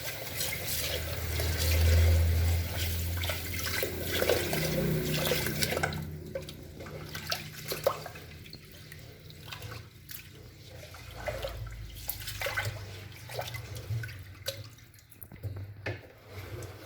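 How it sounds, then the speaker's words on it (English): String beans (sitaw) being rinsed under running water in a kitchen, a steady splashing stream with dripping and swishing, fairly close, louder at first and then settling into a softer, uneven trickle. "Maybe two times of washing, then put water and cook it."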